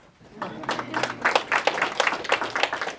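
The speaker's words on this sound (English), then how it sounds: "give yourselves a round of applause" A small group claps, starting quiet and swelling into a brief round of applause with a few voices mixed in.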